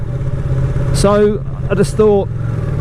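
A 2018 Ducati Panigale 959 Corse motorcycle rumbles while being ridden, its steady low engine drone running beneath someone talking close by.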